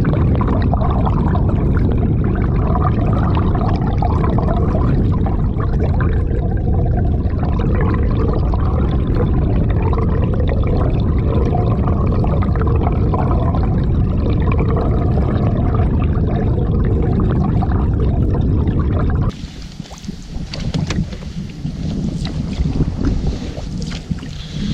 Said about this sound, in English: You can hear a waterfall